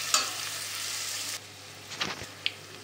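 Onion and garlic fry in a pan on a gas stove, a steady broadband sizzle for the first second and a half, then quieter with a few stirring scrapes and a sharp clink near the end.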